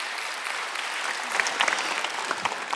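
A church congregation at a Sunday worship service claps together, a full, close burst of many hands with some sharper individual claps standing out, sustained for nearly three seconds.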